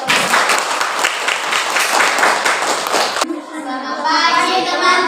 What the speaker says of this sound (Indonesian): Sekarang berikan tepuk tangan yang meriah.